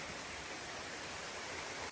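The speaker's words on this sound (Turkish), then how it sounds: "Bu birinci şelale." Uçansu waterfall in Serik, Antalya pours in a steady, dense roar of falling water that fills the whole clip evenly, close and loud with no breaks.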